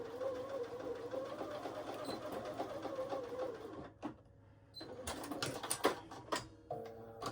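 A sewing machine stitches fuzzy fabric into a loop with a small quarter-inch seam, running in a steady close whir that pauses midway and then resumes in short uneven bursts.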